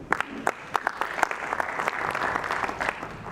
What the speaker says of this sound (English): So extra round of applause for her